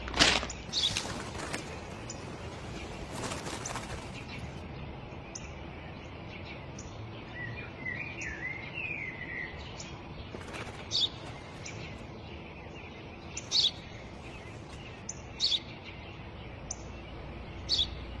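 Small birds chirp and sing in scattered bursts, with a few loud close calls at the start and later a brief warbling phrase, over a steady hushed outdoor background.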